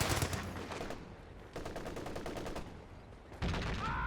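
Bursts of gunfire from a Company of Heroes 2 match with a Raketenwerfer in play, several loud rapid volleys separated by brief pauses, with a heavier burst near the end.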